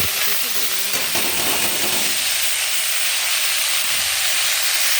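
Chopped greens hit hot oil already spiced with panch phoron and green chilli. A loud burst of hissing sizzle with a few stirring knocks settles into a steady, dense frying hiss close by.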